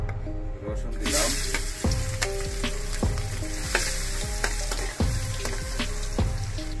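Garlic sizzling in hot oil for a Bengali hilsa fish curry with mustard, a steady frying hiss with repeated utensil clinks and stirring knocks, close and fairly loud.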